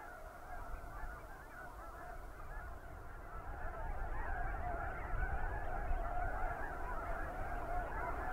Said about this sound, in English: Big rafts now of snow geese on the north end of the main lake.